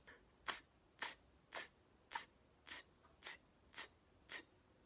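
A voice imitates a closed hi-hat using a TS sound, eight crisp, hissy ticks in a steady, evenly spaced rhythm, close and dry against near silence.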